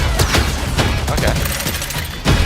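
Repeated grenade launcher blasts in the Call of Duty: Black Ops Cold War multiplayer reveal, set in Miami: loud, sharp bursts spaced irregularly through dense battle noise, with a heavier thump at the end.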